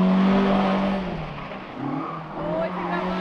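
A car drives past loudly, with a strong engine roar that dips briefly in the middle and swells again, close to the listener.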